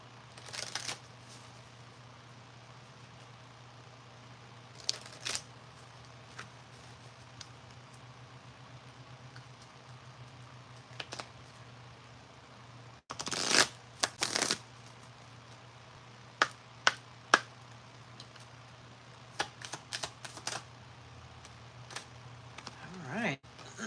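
A deck of Life Purpose oracle cards is shuffled, giving soft scattered riffles and several louder bursts of card snapping and slapping, close and quiet over a steady low hum.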